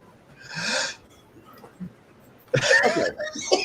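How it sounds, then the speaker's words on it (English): Someone nearby coughs and laughs at once in two bursts, a short one early and a longer, rougher spell near the end, with quiet breathing in between. "I'm just coughing and laughing at the same time"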